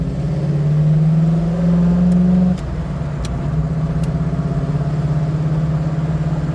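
A 1970 Chevrolet Camaro Z28 high-performance engine revs loudly and close, holding a steady pitch before it dips abruptly mid-clip during a clutchless gear shift and then settles into a lower, steady drone.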